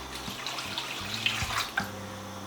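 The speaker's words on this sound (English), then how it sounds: "pour some water" Water is poured into a bowl of yeast in a kitchen while making Cameroonian puff puff: a short, gurgling pour with a few splashy breaks, close and moderately loud.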